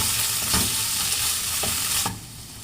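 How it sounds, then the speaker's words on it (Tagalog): Tomatoes sautéing in a hot pan, a loud steady sizzle broken by several scraping stirs before it cuts off abruptly near the end; no voices. "Gigisa na natin ang ating kamatis."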